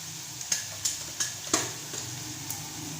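Turmeric and red chili land in a hot pan, giving a soft steady sizzle broken by a few quiet, regular clicks and taps from stirring.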